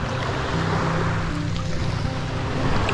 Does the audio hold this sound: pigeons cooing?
no